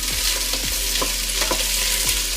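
About four diced Spanish onions sizzling in a pan while being stirred, a steady close frying hiss with occasional scrapes and soft clinks of the utensil, no voices.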